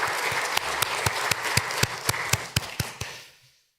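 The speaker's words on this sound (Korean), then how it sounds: "우리 선교사님께 감사합니다. 박수 한번 치겠습니다" Church congregation applauding a missionary during a Sunday afternoon worship service, a steady patter of many hands with sharper individual claps standing out, then fading quickly to silence.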